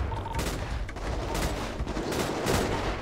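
Gunfire in the game GTA 5 roleplay: rapid bursts of shots with sharp cracks, some near and some farther off, continuing throughout with no voices.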